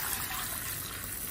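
Water poured close by into a garlic sauce of oil, garlic, vinegar and cumin, a continuous loud splashing pour that holds steady throughout.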